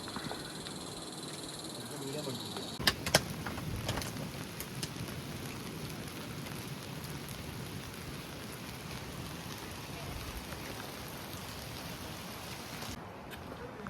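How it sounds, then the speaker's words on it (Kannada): Steady, soft rain hiss fills the background at Madhyamaheshwar in Uttarakhand, broken by a couple of sharp knocks early on, with faint insect chirring mixed in. "ಮಳೆ ಬರ್ತಿದೆ ಈಗ"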